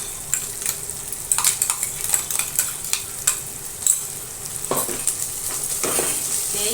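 Ground masala paste fries in a pan for a brinjal, potato and dried prawn curry: a steady sizzle under repeated sharp metal spatula clinks and scrapes against the pan, close and fairly loud, no talking.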